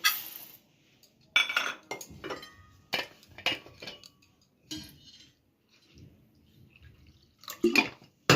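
Poha (flattened rice) being washed and soaked in a bowl: irregular splashes, swishes and clinks of water and grains against the bowl, near and fairly loud, with quiet pauses between and no talking.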